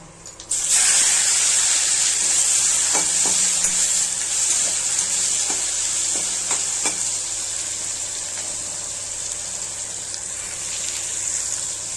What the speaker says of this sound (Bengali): এখন ফোড়নে হচ্ছে পেঁয়াজগুলো